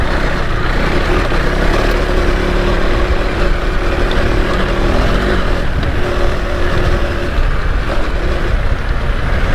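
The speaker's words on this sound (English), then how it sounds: "This is a bike that likes to rev though." A KTM 390 Adventure R motorcycle engine drones loud and close while riding offroad trails, with a constant, steady roar and rushing wind throughout and no voices.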